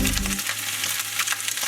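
Ham and egg fried rice sizzles in a hot pan, a close, crackling hiss with small scraping stir sounds, briefly over a low hum at the start, with no voices.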